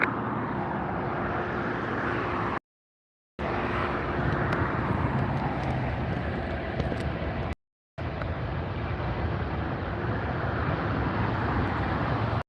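A WestJet airliner takes off from runway 24 left at LAX, filling the air with a continuous broad, roaring jet rumble, steady in level and cut by two brief silent gaps.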